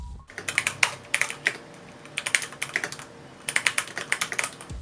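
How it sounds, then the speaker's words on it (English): Rapid typing on an MSI GT83VR 7RF Titan SLI gaming laptop keyboard in several bursts, crisp clicky keystrokes close up with short pauses between runs. "So here's how the keyboard sounds when typing."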